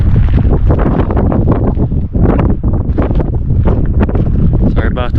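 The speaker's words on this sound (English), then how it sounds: "Sorry about the wind. It's windy." Heavy wind buffets the microphone in loud, low rumbling gusts throughout, with a voice faintly mixed in.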